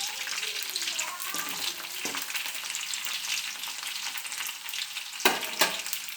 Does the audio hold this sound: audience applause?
no